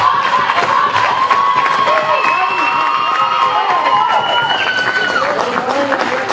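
The Wombats cheer squad and a crowd shout and cheer loudly at a rugby league grand final in Tamworth, a dense, sustained roar of voices with rising whoops and scattered clapping throughout.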